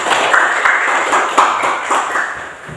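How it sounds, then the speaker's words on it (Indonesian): Students in a classroom clap together at the end of a lesson, a steady run of sharp, fairly rhythmic claps close by with faint voices underneath. "Beri tepuk tangan untuk"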